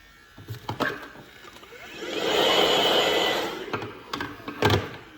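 An electric beard trimmer buzzes steadily for a couple of seconds as it is pushed along a neckline, with scattered clicks and handling taps before and after the pass.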